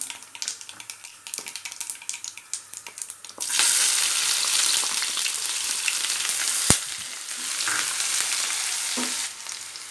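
Cumin and chopped onion frying in oil for vatha kuzhambu: a few soft clinks at first, then a loud, steady, close sizzle from about a third of the way in, with one sharp clack partway through.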